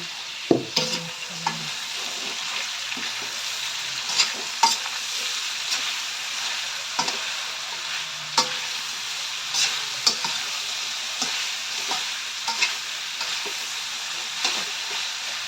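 Mushrooms sautéing in a pan with pork and mixed vegetables, a steady sizzle and hiss broken by periodic scrapes and taps of a spatula stirring, close, with no speech.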